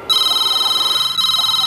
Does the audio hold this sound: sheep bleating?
no